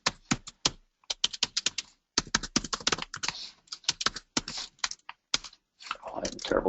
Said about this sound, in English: I'm a terrible typist.